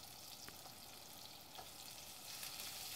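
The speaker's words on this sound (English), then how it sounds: "Then add the ginger, garlic and the chilies into the frying pan." Ginger, garlic and chilies frying in a pan for an Indian-style turbot curry, a steady close sizzle with faint crackles that grows slightly louder toward the end, with no talking.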